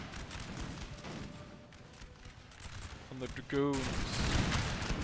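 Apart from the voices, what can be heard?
musket volley fire in Napoleon: Total War video game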